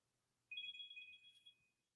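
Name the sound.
mobile phone ringtone ringing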